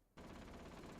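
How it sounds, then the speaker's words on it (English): Automated guns fire in Atomfall, a sudden burst of rapid gunfire that starts abruptly and continues as a dense, fast rattle, fairly quiet and distant. "sounds like a lot of gunfire is occurring"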